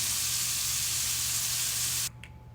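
Sausage browns over medium heat in frying pans, making a loud, even sizzle that cuts off abruptly near the end and leaves a faint hum and a brief clink.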